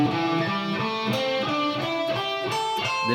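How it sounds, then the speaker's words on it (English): An electric guitar climbs through a minor pentatonic scale with brisk alternate picking, each note clearly articulated in an even, rising run of bright plucked tones, close and clean with no voices. "ascend all the way in one minor pentatonic scale"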